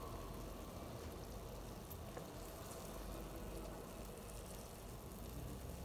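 Lalmohon and kalo jam sweets frying in oil make a soft, continuous bubbling sizzle, fairly quiet and steady, with faint crackles and no talking.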